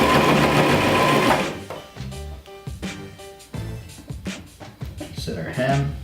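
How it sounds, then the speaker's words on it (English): A sewing machine stitches a trouser hem in short runs, its needle whirring up close in bursts that stop and start for back and forward stitching, with a voice talking over parts of it. "We're just going to feed her through the machine."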